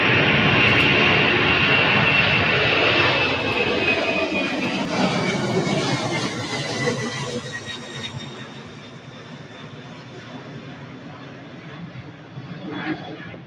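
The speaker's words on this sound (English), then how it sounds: "Beautiful MD-11 pulling out of Louisville, Kentucky." A UPS MD-11 jet takes off from Louisville, Kentucky, its engines a loud rumbling roar with a rising whine that slowly fades as the aircraft climbs away.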